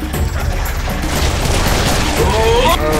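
Turret firing in a video game amid dense mechanical clatter and bursts of gunfire-like noise, loud and continuous for the whole stretch, with a rising synthetic tone near the end.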